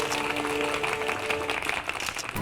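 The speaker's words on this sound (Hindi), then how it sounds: "तालियां" Applause breaks out in a courtroom setting during a live on-camera moment, a dense, steady wash of clapping that fills the whole short stretch at moderate loudness.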